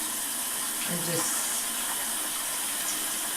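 Tap water runs steadily into a sink as a makeup brush is wetted, a continuous hiss with a voice talking briefly near the start.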